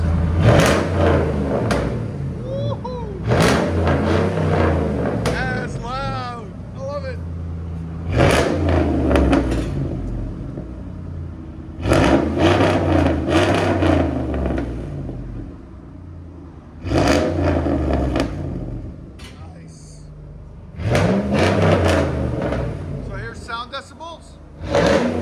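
A 2007 RAM 1500 with a 4.7L V8 and straight pipes revs hard in repeated loud bursts, each climbing and falling back to a deep rumbling idle, with people talking in between.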